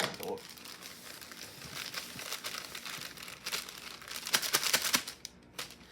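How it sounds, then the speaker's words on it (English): Close crinkling and rustling of plastic packets being handled and cut open with scissors, with sharp snipping bursts toward the end. "And now I have scissors to open these up with."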